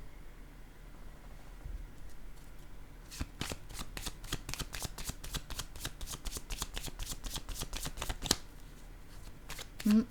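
Tarot cards being shuffled by hand, starting with light handling and then a rapid run of crisp, evenly spaced riffling snaps up close, ending with a brief rustle, with a soft voice speaking at times.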